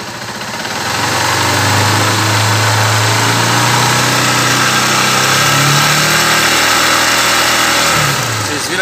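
A Honda CG 150 Sport motorcycle engine idles and then revs up steadily, its pitch rising and holding high for several seconds before dropping back, loud and close throughout.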